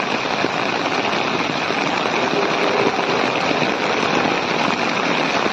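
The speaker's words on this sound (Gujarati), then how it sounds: "ગારિયાધારમાં ધોધમાર વરસાદ." Torrential rain falls on a flooded town road by the Palitana road in Gariyadhar, making a constant, loud wash of noise without pauses or voices.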